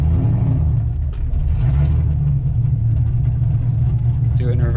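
A Corvette drift car driving a bit faster with a drivetrain noise, heard as a loud, steady low drone from the engine and driveline that continues without a break under someone talking.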